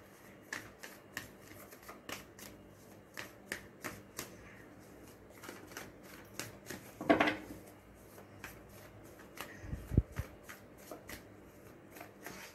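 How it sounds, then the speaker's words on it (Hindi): Tarot cards shuffled by hand in a quick series of crisp riffling flicks and taps, close and fairly quiet, with a thumping knock partway through and no talking. "पहले शफल कर लेते हैं।"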